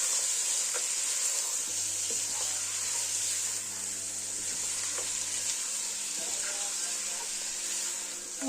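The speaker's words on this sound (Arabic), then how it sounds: "هقلبها واشوحها مع البصلة والتوابل بتاعتي عشان تتنكل كويس" Cubed chicken breast sautéing with onion and spices for chicken makbous, a loud continuous hissing sizzle with occasional stirring clicks and scrapes, close up.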